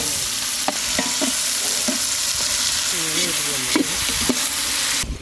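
Fennel seeds, mustard seeds and curry leaves sizzle in hot oil for a papad kara kuzhambu, making a steady, loud frying hiss. Light stirring clicks and pops sound over it throughout.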